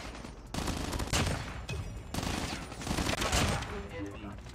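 Rapid bursts of gunfire in the mobile shooter Call of Duty Mobile come in two loud clusters, dense and close, with a short gap between them and a busy game soundscape running underneath.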